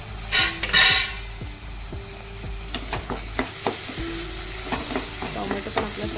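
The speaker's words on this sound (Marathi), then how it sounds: "आता त्यामध्ये आपण टोमॅटो टाकणार आहोत।" Chopped tomato tipped into a pan of softened frying onions for a Marathi val birde dish: a brief loud splash and sizzle, then steady frying hiss with repeated scraping stirs of a spatula against the pan.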